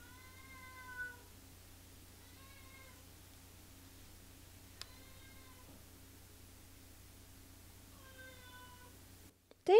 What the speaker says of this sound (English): Why are you meow-meowing?